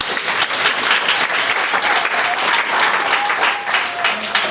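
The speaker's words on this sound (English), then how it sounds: "yourselves a massive round of applause." An audience applauding steadily, a dense, close wash of clapping that holds at even loudness throughout.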